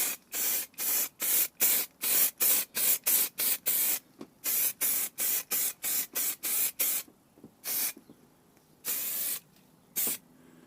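An aerosol spray can of paint hisses onto a Vauxhall Combo van part in a long run of short, evenly spaced bursts, then a few slower, longer blasts, loud and close with no voices.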